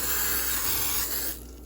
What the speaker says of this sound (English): So now we're going to use canola oil cooking spray, and we're going to spray